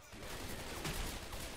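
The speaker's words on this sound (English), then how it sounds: "Rochelle just started shooting me" Gunfire from Left 4 Dead 2, a dense run of rapid shots from a teammate's weapon filling the whole stretch at steady loudness, layered over game ambience with no clear talk.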